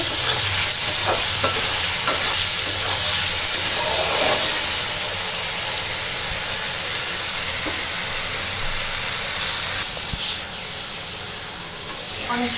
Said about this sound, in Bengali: অনেক সময় ভাজছি, এখন উঠাই নেব।